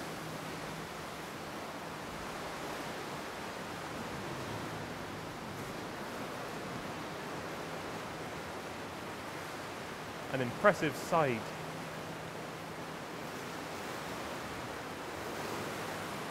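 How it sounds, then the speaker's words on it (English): Steady broadband wash of water surging and lapping against the back of a sea cave in Scotland's Western Islands, echoing in the enclosed space, with a brief voice speaking partway through. "The sound of the water lapping up against the back of the cave is tremendous."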